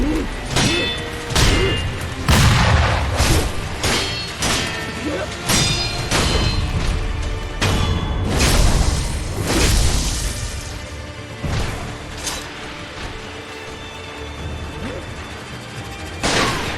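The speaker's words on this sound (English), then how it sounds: "She canceled out of her cannon shot." Combat in the video game Sekiro with booming cannon-like blasts, repeated loud sharp impacts and heavy thuds spread across the clip amid continuous battle noise.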